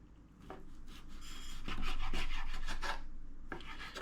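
A knife slices beef into strips for jerky, giving repeated close rasping, rubbing strokes against a cutting surface, quiet and steady with a few sharper scrapes.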